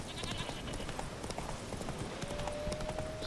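Rhythmic clip-clop of horse hooves from The Witcher 3 on PS5, a quick steady trot heard fairly faint and close, with a soft rising tonal whine joining midway and no talking.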